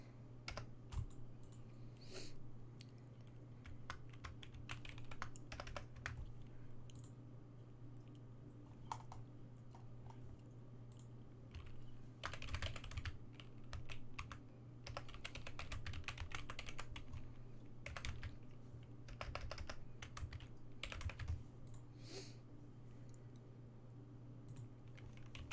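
Fingers type fast on a computer keyboard, with irregular bursts of clacking keystrokes over a steady low electrical hum, close and quiet, with no voices.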